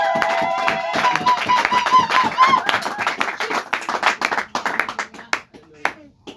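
A church congregation claps during a sermon, a dense burst of rapid hand claps that thins out and fades, with a preacher's voice speaking over it.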